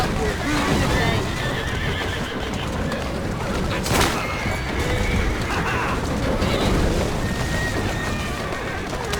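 Horse-drawn carriages in the video game Assassin's Creed Syndicate: horses whinny loudly over steady clip-clopping hooves and rolling wheels, with a sharp crack midway and game voices in the mix.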